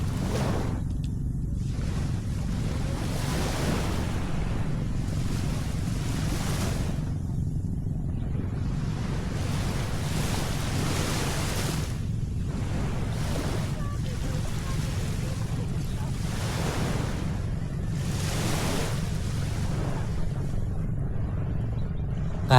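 Ocean waves wash onto a quiet Zambales beach in slow repeated surges every few seconds, a broad hiss rising and fading over a steady low rumble of surf and wind.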